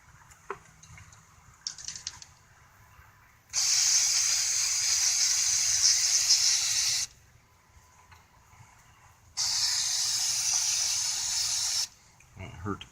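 Electronic cleaner sprayed onto car wiring near a MAF sensor connector, two long steady hissing bursts of a few seconds each, separated by a pause with faint handling clicks.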